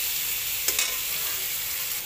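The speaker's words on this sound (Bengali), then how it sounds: "চলো এবার আলুটা একটু ভাজতে দিই" Potatoes seasoned with salt and turmeric crackle and sizzle in a pan, a steady close hiss broken by a brief stirring clatter.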